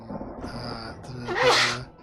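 A single loud, close sneeze bursts out near the end of a tabletop role-playing game session, preceded by a sharp intake of breath and a faint background tone.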